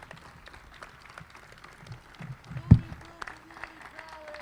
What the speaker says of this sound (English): We got a cheering section in the hall.